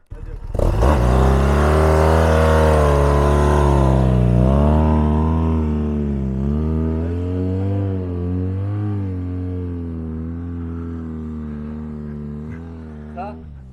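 A loud motorcycle engine revs and roars continuously, pitch rising and falling as it rides hard through desert sand near Merzouga, Morocco, close by throughout.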